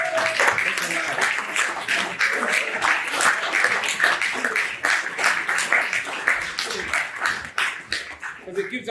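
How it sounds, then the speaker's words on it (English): A group of young men at a manhood academy rites of passage graduation ceremony applauds, giving sustained clapping across the whole stretch, dense and fairly close, with some voices mixed in. "Give yourselves a round of applause for giving it life."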